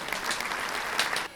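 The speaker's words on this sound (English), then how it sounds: "Give them a big clap, guys." A short burst of dense clapping, like a small crowd's applause, rings steadily for just over a second and then cuts off.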